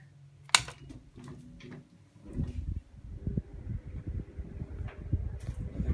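A 16-inch Boshje multimount electric fan switching on after a click, its low motor whir and airflow rumble building and holding steady, close and fairly quiet with no talking.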